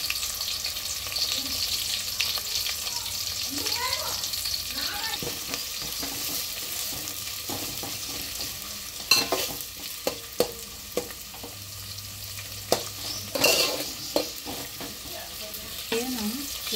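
Green chillies and onions frying in hot oil for aloo poha, a steady hiss of sizzling under scattered scrapes and clinks of stirring, with a few sharper knocks of a spoon against the pan.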